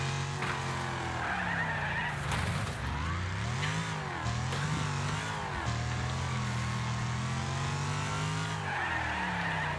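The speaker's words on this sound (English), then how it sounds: "I just hear your engine behind me." Race car engines snarl and tires skid through a corner in the demolition racing game Wreckfest, a continuous loud mix of revving and squealing with pitch sweeping as the car slides, no voices.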